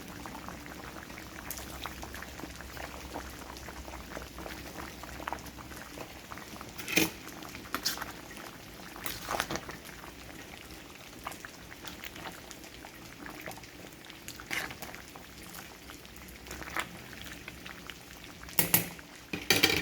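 Green beans simmering in a covered pot on the stove, a quiet, steady bubbling with soft pattering and a few louder clinks and knocks.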